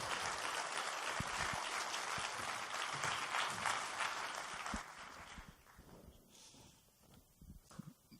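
Audience applause fills a hall at an evening event, a dense wash of clapping that holds for about five seconds and then thins out into a few scattered claps and faint rustling.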